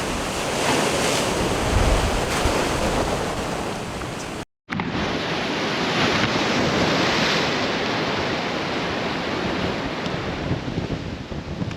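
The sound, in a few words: powerful ocean waves crashing during storm at Buxton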